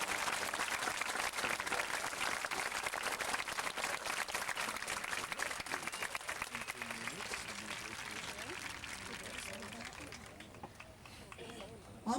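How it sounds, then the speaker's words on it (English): An audience applauds Air Force basic military training graduates at a ceremony, a full, continuous clatter of clapping from a large crowd that slowly thins and fades toward the end, with some voices mixed in. "how about a round of applause for our basic military service graduates?"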